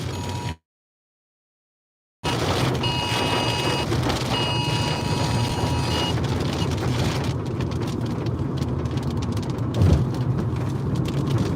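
Heavy rain pours steadily during a strong storm in the Ozarks while chasing tornadoes, a loud dense hiss interrupted by a brief dropout, likely heard from inside a vehicle with a soft rumble underneath.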